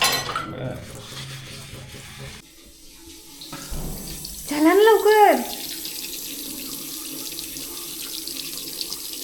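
Dishes are washed under a running kitchen tap, with a steady gush of water, clinks of dishes and cutlery, and a person talking over it.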